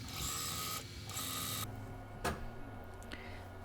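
A sewing machine runs a straight stitch through bouclé fabric with a 1 cm seam allowance, whirring in quick mechanical bursts with short pauses and a click, close and fairly quiet.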